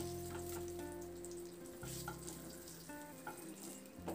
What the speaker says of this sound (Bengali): দেখুন বেগুনটাকে আমি লালচে করে ভেজে নিয়েছি।